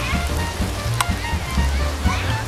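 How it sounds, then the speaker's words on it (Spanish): Water poured into a paella pan over rabbit pieces, a steady loud sizzle and crackle of hot liquid spitting against the metal, outdoors in the countryside, with low rumbling background and a faint voice. "Le ponemos un poco de agua para que el conejo se ponga tierno."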